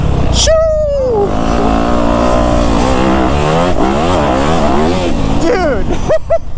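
A brand new dirt bike engine revs hard while being ridden, loud and close, pitch climbing and wavering through gear changes, with a shout briefly over the start.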